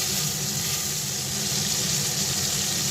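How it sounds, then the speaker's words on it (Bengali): Bhola fish frying in a little oil in a pan as it is flipped, a steady, close, hissing sizzle with no talking. "এবার আমি মাছটাকে উল্টিয়ে দিচ্ছি"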